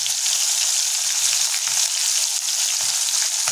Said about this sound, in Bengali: মাছগুলো গরম তেল যোগ করে দিচ্ছি। আমরা ভালোভাবে একটু নেড়ে নেবো